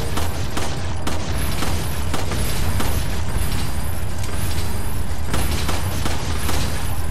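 Gunfire in the video game Resident Evil 4, dense and continuous, with repeated loud shots and booming impacts blending into a steady barrage throughout.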